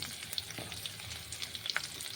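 Okra (lady's finger) frying in a little oil, a steady close sizzle with soft crackles and small pops throughout, with no voices.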